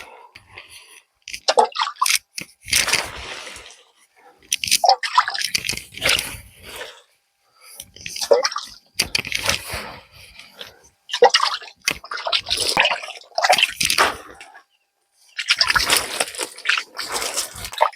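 Sour buttermilk solution poured onto soil beside plant roots, giving intermittent splashing, sloshing bursts at close range, alone without talk.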